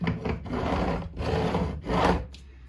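Frets on a Yamaha Attitude bass guitar neck are filed in three long, rasping back-and-forth strokes, close and fairly loud, with a brief pause between each pass and no speech.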